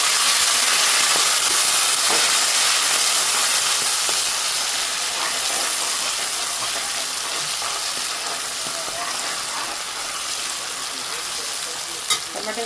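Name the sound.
green onion and tomato added to a hot pan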